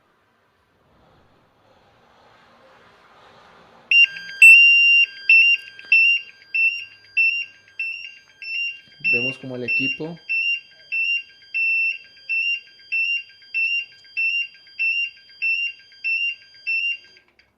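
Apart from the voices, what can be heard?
portable gas detector alarm triggered by exhaled breath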